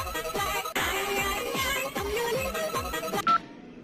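Telephone dialing tones before a call, a quick series of electronic beeps in an even rhythm, close and clear, ending with a brief click and a short tone, no speech.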